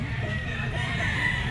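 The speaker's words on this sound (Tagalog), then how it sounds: "Ito yung mga manok ni Boss Albert mga tol, papakita ko sa inyo" White Kelso chickens at a pet market cluck and crow in a dense, continuous flock chorus, steady and fairly close throughout.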